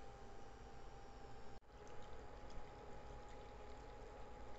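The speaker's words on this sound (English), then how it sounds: "I'm going to put 1 glass of water." A glass of water poured into a cooking pot on a gas stove while preparing broccoli and sweet corn for a salad, a soft continuous stream with a brief break near the middle, quiet and close.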